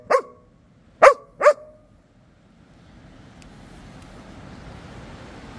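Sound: Belgian Malinois dog barking

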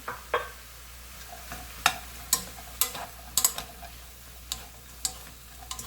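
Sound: stir-frying shiitake mushrooms with garlic and carrot

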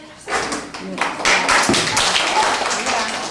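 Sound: audience clapping

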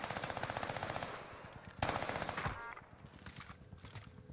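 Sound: Armaguerra 43 SMG gunfire in the video game Warzone

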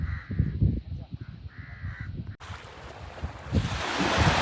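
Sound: crows cawing near drying fish at a seaside fish market

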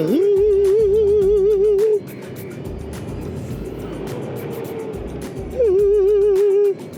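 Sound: electric scooter drive belt whine

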